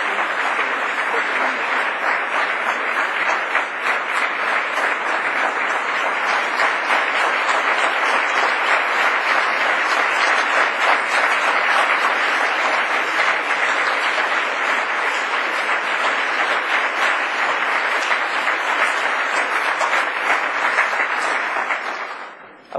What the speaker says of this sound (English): I wasn't taking your applause there, I was just standing here.